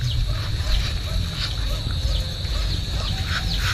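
Domestic ducks quack repeatedly at feeding time outdoors, with a string of short, nasal calls at a moderate distance over a constant low rumble of background noise.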